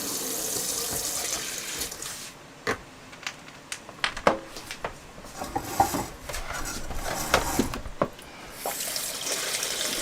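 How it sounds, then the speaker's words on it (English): Tap water runs steadily to fill apparatus in a school chemistry lab, with glassware clinks and bumps rising over the flow as the vessel fills. "what we're going to do is going to fill this with some water"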